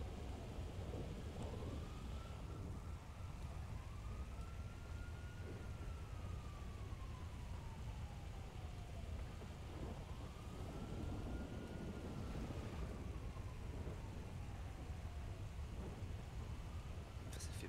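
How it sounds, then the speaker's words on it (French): A thunderstorm with steady rain rumbles in a driving video game, continuous low noise under a rising and falling siren-like tone that sweeps repeatedly. "Ça fait mal aux yeux les orages."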